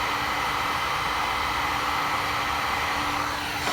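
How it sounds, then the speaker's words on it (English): A heat gun blows with a steady, even rush of hot air, warming a metal fishing jig held in pliers, the whir constant and unbroken throughout with no voices. "I recommend a heat gun over the open flame"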